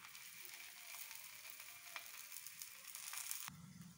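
Puran poli laid on a hot griddle with ghee, a faint steady hiss of sizzling with small crackles, close but quiet, ending in a brief thump, no voices.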